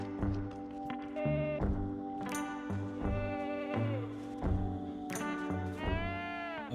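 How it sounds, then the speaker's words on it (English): A sheep in the video game Project Zomboid bleats repeatedly, several loud, close, wavering cries spread across the clip, with no talking. "Okay, so there's a sheep somewhere in this base."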